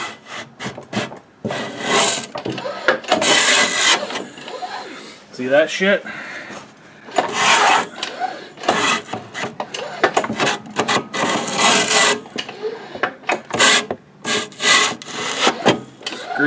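A modified snowblower impeller scrapes against its housing, making rough, rasping grinding bursts in irregular spurts. Someone talks between the scrapes.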